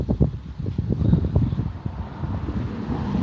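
Wind blows outdoors and buffets the microphone in uneven, gusty low rumbles, loud and close, with no voices.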